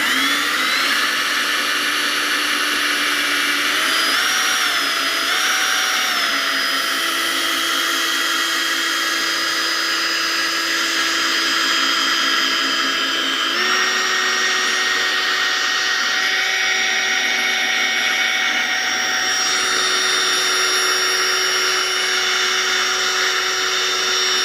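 Handheld power drill whirring steadily while polishing the HID headlights of a 2005 facelift Mazda Bongo, a loud continuous whine that shifts pitch slightly as the motor speed changes, with no talking.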